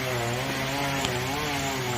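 Chainsaw running steadily at close range amid a community storm cleanup after a tornado, a continuous loud buzzing drone with a harmonic whine that holds unbroken throughout.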